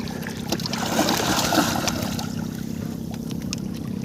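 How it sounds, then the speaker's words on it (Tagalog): A strong river current rushes in a steady broadband wash during night spearfishing, loud and continuous with faint splashes and no talking. "Malakas ang agos."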